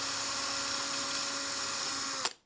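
A small dental-style drill whines steadily and close while opening up 2mm screw holes in a Mini Planet model kit part, stopping abruptly near the end.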